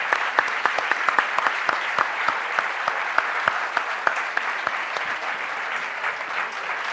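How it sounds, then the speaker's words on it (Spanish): An audience at a book talk with the author claps steadily and fairly loudly, with individual sharp hand claps standing out from the dense, even applause throughout. "Un aplauso."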